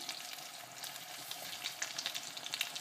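Sisteron lamb chops fry in a hot pan, giving a quiet, steady sizzle with light crackles and spits that grow a little busier toward the end. No one speaks.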